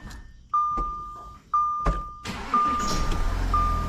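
An Audi Q7 engine starts after a battery replacement, with a steady electronic chime beeping at intervals, a click, then a brief crank catching into a steady idle rumble that continues to the end.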